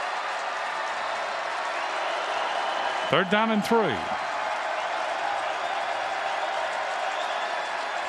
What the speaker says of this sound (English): The Idaho crowd trying to get into it a little bit